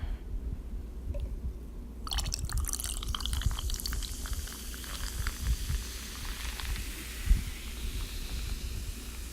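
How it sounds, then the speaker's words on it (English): Sprite soda is poured into a cup, giving a close, fizzy trickle that starts abruptly and then settles into a continuous carbonated hiss with a few small bumps. "I gotta pour myself some more Sprite"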